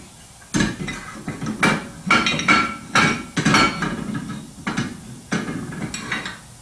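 Metallic clanks and knocks as a brake rotor is fitted onto the rear hub of a Chrysler 200, a series of about a dozen sharp close impacts in irregular clusters with brief pauses between.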